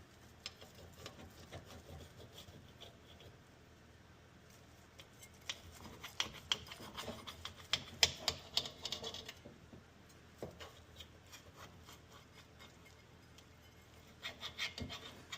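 Knife slicing through a firm roasted vegetable frittata, soft rasping and scraping strokes that grow denser in the middle and pick up again near the end, close and faint, with no talk.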